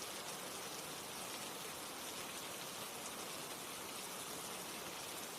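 Steady rain pours down in a dense, even hiss of countless drops with no pauses or other sounds, constant and moderately loud throughout.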